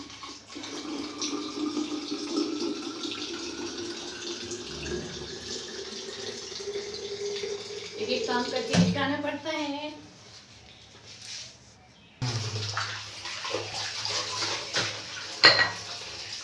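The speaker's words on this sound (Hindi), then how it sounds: "शीशे की गिलास धो के हटा ले रहे हैं" Glass tumblers rinsed under a running kitchen tap, with water splashing, glass clinking and dishes knocking in the sink; a person talks over the washing, and the tap pauses briefly before the water runs again.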